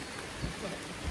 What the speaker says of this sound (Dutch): Het is vandaag maandag en het regent.